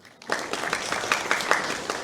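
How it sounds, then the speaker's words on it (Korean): Applause from a seminar audience at a Korean occupational safety and health event rises suddenly after a brief quiet moment, then continues as a dense, even patter of many hands welcoming a presenter to the stage. "큰 박수로 맞이해 주시기 바랍니다."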